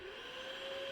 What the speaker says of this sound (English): She pulled out the vacuum cleaner